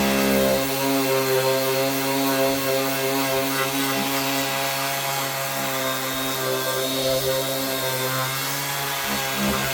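A Parkside Performance PAMSP 20-Li A1 20V cordless random orbital sander runs continuously with a loud, steady motor whine and buzzing hum, close up and without any talking.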